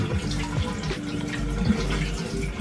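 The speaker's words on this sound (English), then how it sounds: "Wash your mushrooms, especially if they're organic." Mushrooms washed under a running kitchen tap: steady loud water flow splashing into a sink, with brief rustles of handling in the stream, close and continuous.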